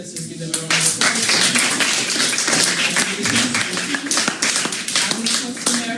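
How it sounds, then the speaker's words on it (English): An audience at an inter-secondary school debate applauds the runner-up team, a sustained round of close, busy clapping with some voices mixed in. "let's just give them a round of applause."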